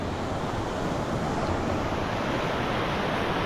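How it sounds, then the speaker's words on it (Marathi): Floodwater from heavy Konkan monsoon rain crashes against a bridge, a loud, steady, roaring wash of rushing water with a constant rumble and no talk. "इथे बघ असलं आपटते पाणी"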